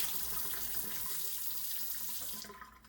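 A part of a Keurig Drinkworks Home Bar drink maker, sticky with margarita residue, rinsed under a running kitchen tap: a loud, steady rush of water close by that cuts off near the end, with no voices.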